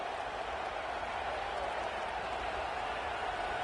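A loud football stadium crowd roars as a steady, unbroken wall of noise, drowning out everything else.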